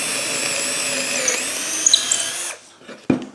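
A Festool cordless drill bores through a tulip wood block with a steady high whine that cuts off after about two and a half seconds, followed by a sharp knock.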